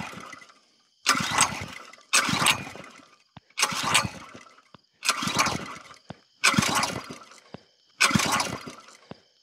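A small engine running on isopropyl alcohol is cranked over and over: six loud, broadband bursts of roughly a second each, separated by short quiet gaps, with no steady running between them.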